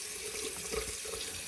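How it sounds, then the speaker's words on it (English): A shaving brush is rinsed under a running tap, a soft, steady rush of water splashing into a sink with slight changes in flow as the brush moves through the stream, with no voices. "I think I'm gonna have 1 or 2 brushes I'll reuse. So I'm gonna just rinse this one out real quick so I can reuse it"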